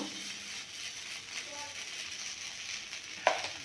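Semolina batter sizzling as it hits hot oil and water in a pan, a faint, steady frying hiss with a small clatter near the end.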